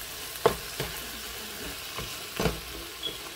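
Vegan chopped cheese sizzles steadily in a frying pan, a faint even crackle broken by a few louder taps and scrapes of a utensil at irregular moments.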